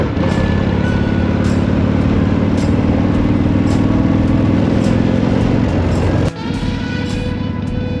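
A 1979 Harley-Davidson Shovelhead motorcycle rumbles loudly nearby with a steady, throbbing V-twin exhaust, then the tone shifts abruptly as it pulls away.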